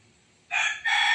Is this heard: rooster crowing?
yes